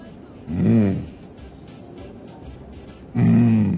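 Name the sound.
person imitating a lion's roar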